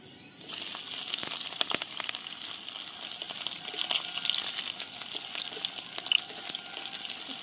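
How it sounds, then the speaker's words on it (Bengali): Crushed garlic dropped into hot oil sizzles with a steady, bright hiss and scattered crackles and pops, close and fairly loud, continuing without a break. "বন্ধুরা আমার তেল গরম হয়ে গেছে, আমি তেলের মধ্যে দিয়ে দিব থেতো করে রাখা রসুন"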